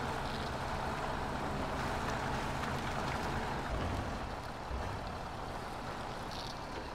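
A truck engine labors steadily in all-wheel drive while its wheels slip through deep mud in the Mudrunner game, a continuous loud rumble with no talk over it.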